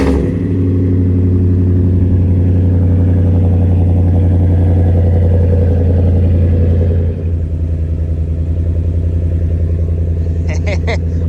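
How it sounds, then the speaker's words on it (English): A 2016 Ford F-150 with an aftermarket Flashshark cat-back exhaust cold starts in about 1-degree frost after sitting 7 days, running loudly and close with a deep, rumbling idle, dipping briefly before settling back; a few faint clicks near the end. "Let's see how it cold starts."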